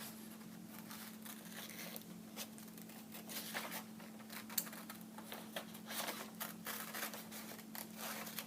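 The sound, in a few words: scissors cutting out a paper figure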